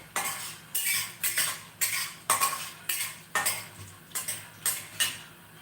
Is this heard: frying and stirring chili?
yes